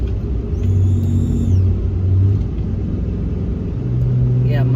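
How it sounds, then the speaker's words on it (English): A hotshot truck engine with a leaking exhaust manifold rumbles steadily up close, with a faint high whine and a hiss of air near the end; no talking over it. "Yeah, my manifold's leaking."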